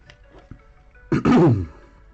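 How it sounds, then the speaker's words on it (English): A person clears their throat and coughs in a short, close burst after a few soft clicks and quiet breaths. "I'm gonna start coughing now."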